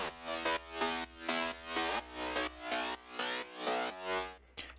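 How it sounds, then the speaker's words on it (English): A progressive house synth bass made in FL Studio, with a flanger giving it stereo movement, plays a run of rhythmic sustained notes, with a sweeping, shifting tone and no voice over it. "for this bass I also added a flanger to give it a bit more"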